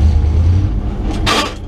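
An old International truck engine rumbles steadily and close while driving, a low continuous drone with a brief brighter burst of noise near the end.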